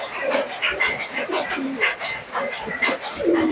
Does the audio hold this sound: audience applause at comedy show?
no